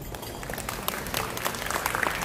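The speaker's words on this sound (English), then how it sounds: "round of applause for Bobby." Audience applause at a press conference for a Vietnamese festival held at a casino hotel in Maryland, a steady wash of many hands clapping at moderate distance, fairly soft and sustained throughout.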